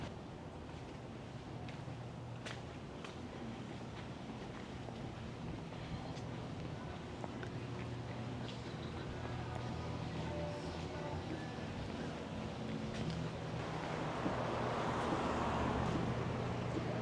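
Wind rumbles and buffets against the microphone in a steady low roar on a hot, windy day in Old Town Albuquerque, growing stronger near the end, with faint outdoor ambience underneath.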